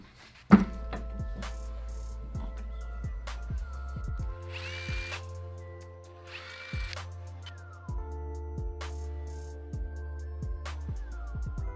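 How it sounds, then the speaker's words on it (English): Tight connecting rod caps from a car engine are worked loose in a vise, with a sharp initial knock followed by repeated metallic taps, clunks and whirring tool noise, close and busy throughout. "I'm gonna go throw these in the vise real quick and bust them loose because they are pretty tight."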